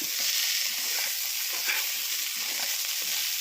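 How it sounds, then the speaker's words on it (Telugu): Chana dal curry fries steadily in a hot pan, giving a continuous close, loud sizzle and hiss with faint stirring scrapes throughout and no talking. "కర్రీ అయితే చక్కగా ఫ్రై అయిపోయింది"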